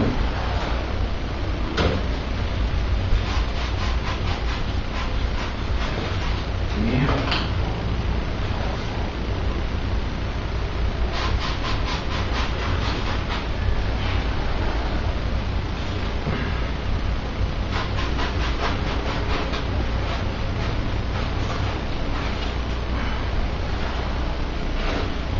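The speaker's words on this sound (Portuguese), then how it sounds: "Pega assim, uma lixa aí grossa," Coarse sandpaper rasps against the edge of a PVC pipe in steady, continuous strokes, with the scratchy friction noise running through most of the stretch. Broadband abrasive sound continues without speech over it.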